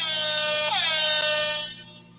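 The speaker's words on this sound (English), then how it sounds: "Where's my air horns?" A single sustained air horn blast, loud and bright, is dropped in on a talk stream and tapers off at the end.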